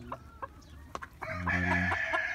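Nagasaki and kikiriki bantam chickens cluck in short scattered notes, then a rooster lets out a loud, sustained crow close by.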